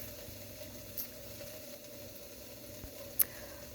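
Peppers sauté uncovered in a pan with a quiet, steady sizzle, broken by a couple of brief clicks, before cauliflower fried rice is made.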